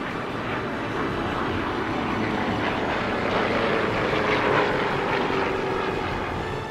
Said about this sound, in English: Bob Davies' Yak 3 UTI, seen here at the East Kirkby Airshow